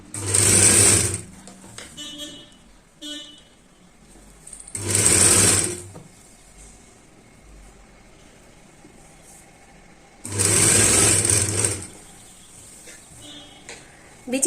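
A sewing machine stitches a blouse in three loud bursts of fast whirring, each a second or two long, separated by quieter stretches of handling noise and faint background sounds.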